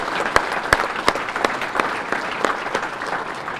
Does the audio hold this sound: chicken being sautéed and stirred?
no